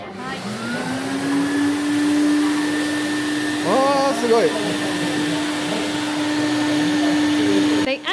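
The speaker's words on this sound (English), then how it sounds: "They actually used a vacuum cleaner to draw out the moisture." A vacuum cleaner runs steadily, drawing moisture out of a sheet of handmade paper, with a constant whine that holds for about eight seconds and cuts off at the end. Brief voices break in partway through.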